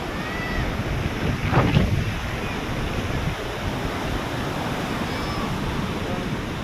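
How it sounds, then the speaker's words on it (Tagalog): Ocean waves surge and wash ashore on a beach, a steady broadband roar with one louder crash near the start, buffeted by wind noise on the microphone. "Sabayan yung paghampas ng alon."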